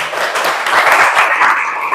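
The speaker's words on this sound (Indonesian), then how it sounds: "Berikan aplaus buat Muti" A classroom applauds a student, with steady, dense clapping from a group of many hands, loud and close, continuing throughout with no talk.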